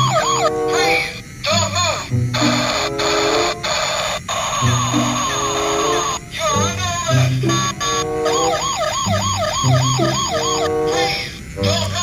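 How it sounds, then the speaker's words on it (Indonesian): A patrol car's siren wails in repeated rising and falling sweeps, loud and close, alternating with an electronic yelp pattern, with no talk over it. "Ada mobil polisi patrol."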